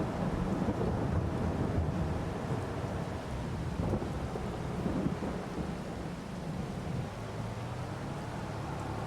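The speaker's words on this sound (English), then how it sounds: "It starts raining like this." Steady rain hiss with low, rolling thunder rumbling underneath in the video game Farming Simulator, continuous and moderately quiet, with no voices.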